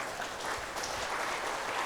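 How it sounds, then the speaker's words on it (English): An audience applauds steadily for a couple of seconds, a dense even patter of many hands clapping together at a health program gathering. "I think you deserve to give yourselves a clap."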